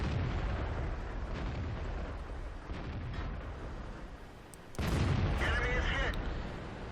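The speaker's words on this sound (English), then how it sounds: "Got a shot in from far away" A tank cannon fires in World of Tanks from a T32, a sudden loud boom cutting in partway through over a steady rumbling engine and battle ambience.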